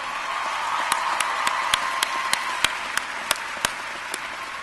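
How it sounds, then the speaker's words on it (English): A graduation audience at a university commencement gives a round of applause for the degree recipients, a broad wash of clapping with a few sharp nearby claps ringing out at regular intervals. "I think they deserve another round of applause, don't you?"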